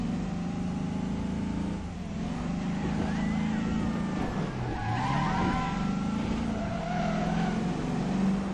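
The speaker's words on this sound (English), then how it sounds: "with these junky cars, I can't even get enough speed to get any air off those jumps" Cars in the video game Crackdown drive and skid, with engines droning and sliding up and down in pitch and tyres screeching briefly midway, heard steadily and fairly close.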